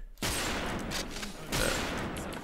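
A Zaitsev Neon rifle fires in the online shooter WolfTeam, a sharp close report followed by a second burst of gunfire about a second later, loud and without talk.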